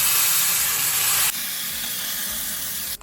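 Loud, steady sizzling hiss of mixed safflower greens hitting hot tempering oil with hing, turmeric and dried red chillies, continuous throughout and dropping slightly in intensity partway, with no talking.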